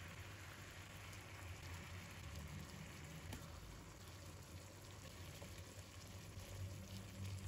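Fried chicken wings simmering in a thickening sauce, a dense continuous bubbling sizzle, steady and close but fairly quiet, with no voices.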